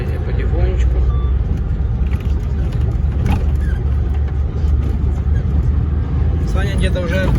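A DAF dump truck rolls slowly along a forest road, its engine a steady loud rumble throughout with cab and road noise, and a voice speaking over it.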